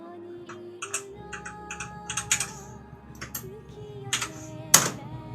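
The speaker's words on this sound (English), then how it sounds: "I got a mechanical keyboard, thinking I was cool." Someone types on a loud mechanical keyboard, with quick irregular bursts of sharp clacky keystrokes close up and short pauses between them, and no voices.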